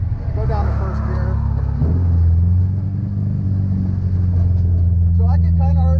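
A car's engine drones as a deep, loud rumble on a race track during a high-performance driving session, shifting in pitch partway through as it downshifts, with people talking over it.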